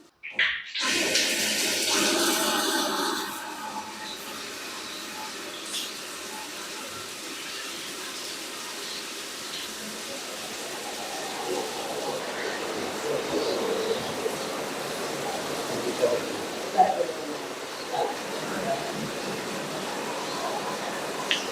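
A Vichy shower sprays water steadily during a spa treatment, a broad continuous hiss that opens with a louder, harsher burst and then settles into an even rush, with occasional splashes and faint movement throughout.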